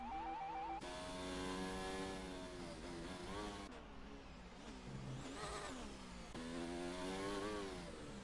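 Formula 1 car engine on a flying lap at the French round in F1 2019, screaming revs climbing and falling through repeated upshifts and downshifts, close and loud, with faint background voice.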